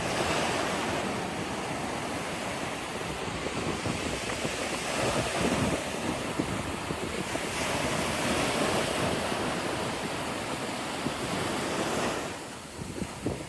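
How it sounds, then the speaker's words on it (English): Brisk wind buffets the microphone as waves roll steadily onto Corito Bay beach, a loud, continuous wash of surf with no talking. "We do have a very brisk wind today. A lot of rollers coming in."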